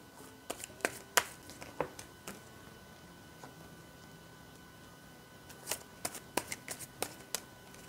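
Tarot cards shuffled by hand, giving bursts of crisp riffling taps early and again near the end, with a quieter stretch between, close and moderately soft.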